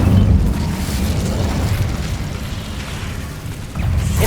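Incendio fire spell cast in Hogwarts Legacy, a dense, rumbling whoosh of flame that stays loud throughout and swells again at the end.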